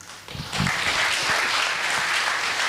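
Audience applause at a proptech and sustainability startup pitch competition, a dense, steady wash of clapping that swells within the first half second and holds loud and even to the end, with no talk over it.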